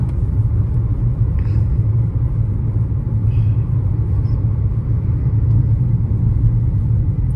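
A car driving slowly over a bad, rough road, heard from inside as a steady, loud low rumble of engine and road noise that continues unbroken throughout.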